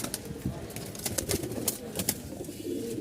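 Rajshahi hand-trick pigeons loose indoors, soft low cooing mixed with sharp flutters of wings and scuffling, close by, no talking.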